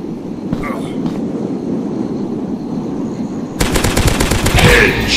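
Gunfire in the dinosaur hunting game Dinosaurs Hunter starts with a few scattered shots, then breaks into a loud, rapid burst of automatic fire near the end.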